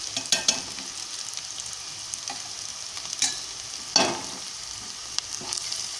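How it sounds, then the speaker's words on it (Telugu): Ginger garlic paste sizzles and fries in hot oil, with steady crackle and a few louder stirring scrapes of a spoon against the pan, close and alone without talk. "ఇప్పుడు మనం దంచి పెట్టుకున్న అల్లం వెల్లుల్లి పేస్ట్ వేస్తున్నామండి"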